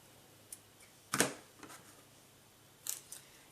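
Small scissors snip the thread on a handmade pinwheel hair bow in a couple of sharp, close cuts separated by quiet pauses.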